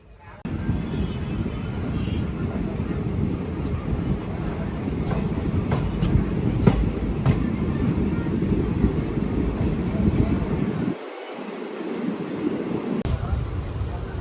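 Superfast express train running between Anakapalli and Duvvada, its steady loud rumble and rail noise continuous throughout, with faint clicks and a brief drop near the end.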